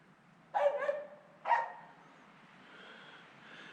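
A dog gives two quick barks, the first a short double yap, then a single bark a second later, fairly close in a quiet setting.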